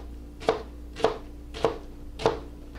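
Four evenly spaced knife blows crushing garlic cloves on a cutting board, each a sharp close thud roughly half a second apart, with a steady low hum underneath and no talking.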